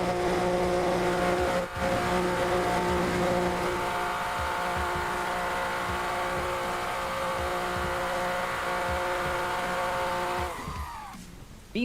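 A car spins donuts in the BeamNG driving game, its engine droning loud and sustained with wavering revs for several seconds before cutting off near the end.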